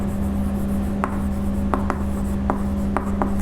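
Marker or chalk strokes on a board in an accounts lesson, a few short scratchy taps and lines over a steady electrical hum, with no talking.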